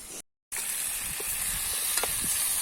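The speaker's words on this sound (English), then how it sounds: "Normally when I do this, I just make it fry out a little first" Chicken frying in a pot over an outdoor wood fire, a close, steady hissing sizzle after a short gap of silence, with faint stirring knocks and no voices.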